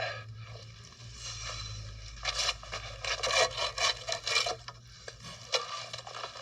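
A log is sawn by hand for firewood outdoors, with a burst of rough, rhythmic rasping strokes in the middle, close and fairly loud over a low hum.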